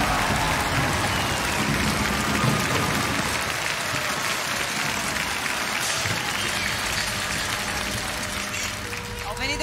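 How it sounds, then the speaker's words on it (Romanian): Sustained applause from a comedy-show studio audience as a guitar duo comes on stage, steady and loud throughout with crowd noise beneath. "să-i primim cu aplauze pe Paul Morocco și Marcial Heredia"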